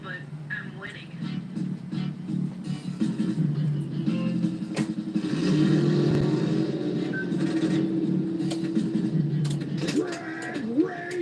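A pinball machine's drag race multi-ball mode plays a revving car engine effect, rising and falling as a steady droning roar with mechanical clatter. A voice talks over it, and the whole thing sounds close and continuous.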